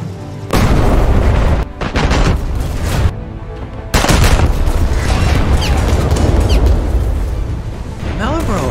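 Battleship guns in War Thunder firing on Maus tanks, heavy booming salvos and rolling blasts, loud and close, with explosions and gunfire overlapping while a voice talks throughout.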